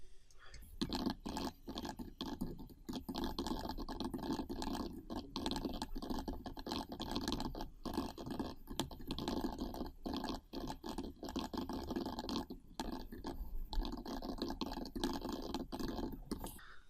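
Soft, fast computer keyboard typing while writing a blog post, a quiet stream of irregular clicks and taps continuing steadily throughout with no talking.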